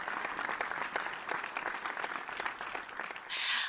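Applause for the prize winners of a nutritionists' online forum: a steady patter of clapping, fairly soft and even, ending with a brief burst of brighter noise.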